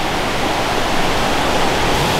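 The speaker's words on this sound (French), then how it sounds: "On entend le flux de l'eau." A waterfall near Souillac in Mauritius roars as a steady, loud, broadband rush of falling water, continuous and close with no voices over it.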